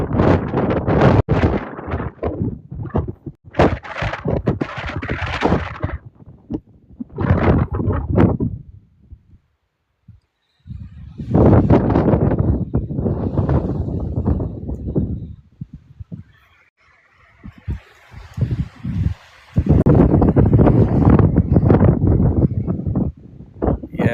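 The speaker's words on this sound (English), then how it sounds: "she's a windy day today" Gusty wind buffets the microphone in long rumbling bursts, with brief lulls between loud roaring stretches.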